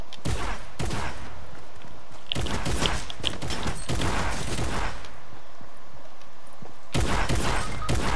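Gunshots in Fortnite crack out in dense, loud clusters of rapid fire with short pauses between bursts, close and alone without talk.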